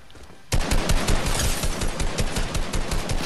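Rapid automatic gunfire in the video game Fortnite, a dense burst of loud repeated shots that starts abruptly and rattles on for about three seconds without pause.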